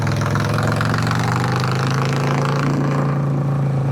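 A Harley-Davidson Sportster 1200 motorcycle engine runs loud and close, with a deep, steady, throbbing rumble and no pauses.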